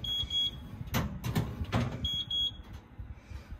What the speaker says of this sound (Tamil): 40 மினிட்ஸ் முடிஞ்சிருச்சு, அலாரம் அடிக்குது.